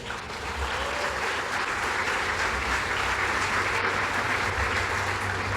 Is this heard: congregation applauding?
yes